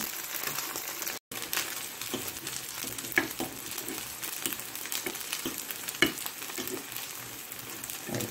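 Cucumber guliyappa (Mangalore-style mullu southe guliappa) frying in oil in a pan as the pieces are turned over one by one, a steady close sizzle and crackle with a few soft clicks of a utensil and one brief gap.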